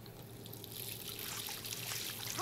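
Water running from a dormitory bathroom tap in the video game Life Is Strange, a faint, steady trickle that swells slightly toward the end, with no speech.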